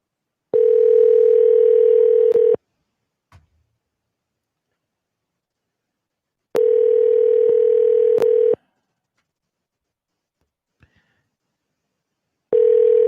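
Three long, loud steady telephone tones from a cell phone call signalling that the circuits are busy, each about two seconds, repeating at regular intervals with silence and faint clicks between.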